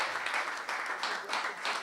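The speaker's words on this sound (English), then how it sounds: "Another round of applause for this team." Faint applause from an audience for a team on stage at a creativity event, a steady patter of clapping lasting under two seconds.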